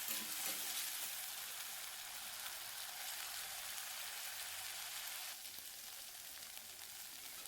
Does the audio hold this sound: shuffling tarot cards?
no